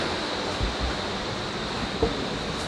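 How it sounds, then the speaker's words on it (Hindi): Water pours steadily from a spring-fed pool at Kalpeshwar Temple in the Urgam Valley of Uttarakhand, a constant rushing hiss with a few faint bumps, nearby and alone. "ये देखिए ये कुंड है, यहाँ से पानी आता है"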